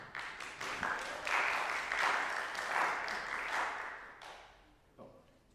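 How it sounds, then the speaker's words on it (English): Warm audience applause for the judges at a tuba studio recital swells and holds for several seconds, heard at a distance, then thins out into a few scattered claps. "we also have a round of applause for our judges one more time"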